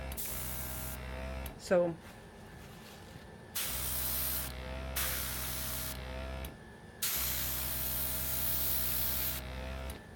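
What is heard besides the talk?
Liberty airbrush spraying air and ink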